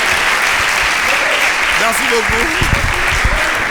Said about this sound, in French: Applaudissez.